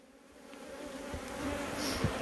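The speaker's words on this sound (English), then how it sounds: "We're trying to get some bees out of the wall. Some honeybees here." Honeybees inside a house wall make a dense, steady buzzing hum that grows slightly louder, with individual bees zipping close by now and then.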